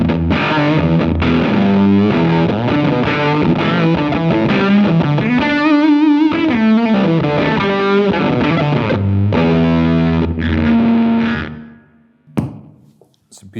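An electric guitar through a crush distortion pedal on a 2021 pedalboard plays a dense, heavily distorted riff with bending sustained notes for about twelve seconds, loud and gritty, then cuts to a brief quiet tail with a few soft noises.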